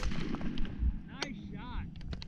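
A single gunshot from a dove hunt in an open field cracks out sharply, with a few voices and wind noise around it.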